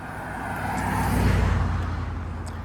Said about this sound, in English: Usually, wait for these cars.